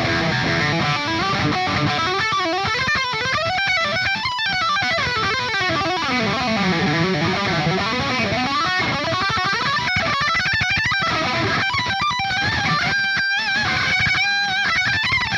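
Ibanez Jiva electric guitar played through heavy distortion, loud sustained riffs and chords ringing continuously with fast note runs throughout.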